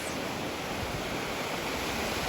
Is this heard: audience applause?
no